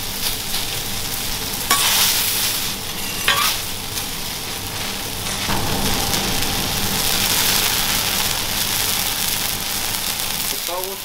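Spring-cabbage okonomiyaki batter, quite watery, sizzles and spits loudly and steadily on a hot griddle, a dense frying hiss that continues through the whole stretch with a few brief clatters of utensils.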